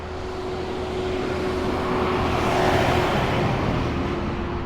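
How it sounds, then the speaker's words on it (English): Cars and trucks pass along a city street in Washington, D.C., a broad steady roar of traffic swelling and easing, fairly loud and continuous with no voices. "Here comes some cars and trucks. That will be loud and obnoxious and annoying."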